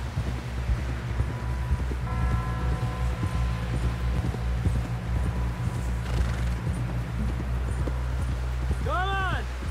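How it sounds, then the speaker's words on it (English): Steady clip-clop of horse hooves in the video game Red Dead Redemption 2, under a constant low rumble, with a horse whinnying near the end. "Someone help John down off this horse."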